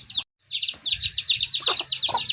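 Chickens clucking and peeping steadily at close range, a busy run of high chirps with a brief pause near the start.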